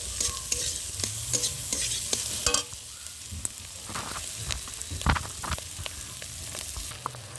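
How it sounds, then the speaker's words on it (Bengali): Snails (googli) frying in oil while being stirred, with a continuous sizzle broken by sharp scraping clicks of the utensil against the pan. The scraping is heavy early on and grows sparser after a brief dip. "দেখো ভাজা ভাজা করে নিচ্ছি।"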